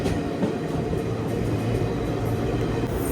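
The 17654 Kacheguda Express from Puducherry, running late near Arakkonam Junction, rumbles along in a continuous, fairly loud wash of wheel and carriage noise, steady over a few seconds, with no voices.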